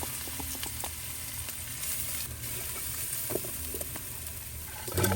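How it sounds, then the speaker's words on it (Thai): Chili and garlic frying in a pan for pork and holy basil stir-fry, a steady broadband sizzle with occasional stirring clinks and scrapes, close and continuous, no voices. "ใส่พริกและกระเทียมลงไปก่อนนะครับ"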